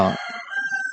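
A loud rooster crow bursts out at the start and is cut off quickly, followed by faint, scattered chirps in the background.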